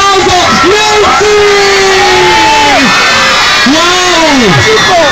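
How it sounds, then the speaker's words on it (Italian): A party crowd cheers and whoops loudly and close, with many voices shouting in overlapping bursts throughout. "Ecco la signora, accogliamo con un grande applauso."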